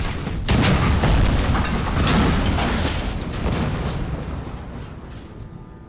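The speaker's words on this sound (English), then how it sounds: "Oh, grenades. They will hurt." Grenade explosions in the Robocop Rogue City shooter game, a heavy rumbling boom that rolls on and slowly fades, loud and close, with no talking.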